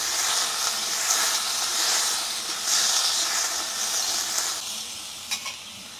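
Crab and potato pieces fry with garlic and cumin in a hot pan, giving a loud, steady, close sizzling hiss that carries on throughout, with a few small clicks near the end.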